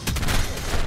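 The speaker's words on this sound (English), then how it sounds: "I did the fireworks." Fireworks going off in the video game Ark, a dense burst of crackling pops and bangs packed close together for a full second, loud and continuous with no talk over it.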